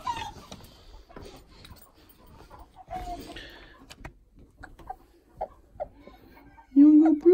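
A broody Buff hen gives soft, scattered clucks under a person's talk, then a louder, drawn-out call near the end.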